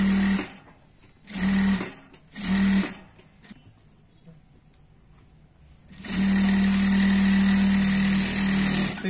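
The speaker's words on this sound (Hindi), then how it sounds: "हम इसे इस तरह से इसके ऊपर एक दाब सिलाई देंगे, इसे हम प्रेस टिप भी कहते हैं।" An electric sewing machine top-stitching the neckline of a Punjabi dress, running in three short whirring bursts with pauses between, then one long steady run, loud and close.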